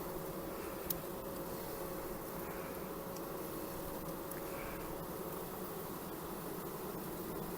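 Honey bees buzz steadily around a nucleus hive during colony setup, a soft continuous hum of many insects at moderate distance with no voices.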